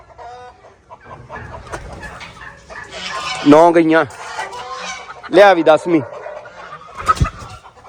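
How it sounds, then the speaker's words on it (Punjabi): Sonali hens clucking and squawking loudly as they are handled one by one into a coop, with agitated bursts rising over a voice talking close by. "10 ਸੁਨਾਲੀ ਮੁਰਗੀਆਂ ਬਾੜਤੀਆਂ"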